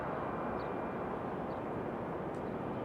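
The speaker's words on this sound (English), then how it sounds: "Looks like we've got that American Eagle on final coming in from Nashville." An American Eagle airliner on final approach at Raleigh-Durham airport, a steady broad engine roar from a distance that holds constant throughout, with no talking.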